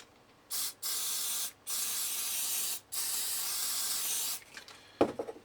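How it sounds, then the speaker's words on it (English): Several bursts of aerosol spray hiss into the sockets of a flood-damaged Lenovo ThinkCentre computer, short then longer, close up, separated by brief pauses, followed by a faint clatter. "we'll spray the sockets down there"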